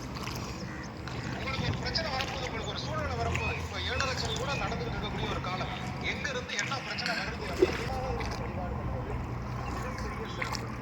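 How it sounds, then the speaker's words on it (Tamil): Boat ride on water near T. Mukkulur by Chidambaram: a steady wash of water and boat noise runs throughout at moderate level, with people talking over it. "படகு சவாரி போயிட்டுருக்குறோம்."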